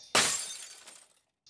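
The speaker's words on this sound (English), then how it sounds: "all of a sudden you hear the sound of breaking glass." Glass shatters with a sudden loud crash, followed by about a second of tinkling, scattering shards that fade into silence; a dramatized home break-in sound effect.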